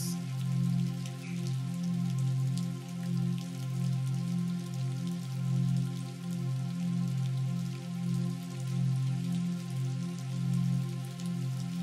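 Steady falling rain patters continuously on rocks in a mountain setting, a dense, even wash of drops heard close and alone for the whole stretch, with no voices.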